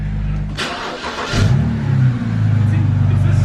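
A salvaged BMW starts up and pulls away under its own power, the engine catching with a brief rev before settling into a steady, close mid-pitched drone as it drives off.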